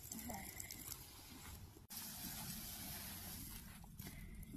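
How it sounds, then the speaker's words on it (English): Water from a hose running onto a horse's leg during cold-hosing, a steady gushing spray with a brief break midway, quiet and close. "we're going to cold hose it a little bit"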